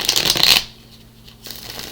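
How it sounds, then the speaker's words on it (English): Tarot cards are riffled in a quick, crisp burst, followed by a pause and then softer shuffling, close up with no talking. "I'm going to go ahead and shuffle the clarification deck"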